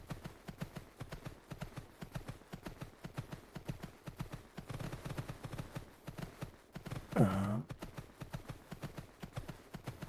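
A horse's hooves clop at a steady walking rhythm while riding through the video game Horse Isle 3, a quiet, even beat that carries on throughout, with a short brighter burst partway through.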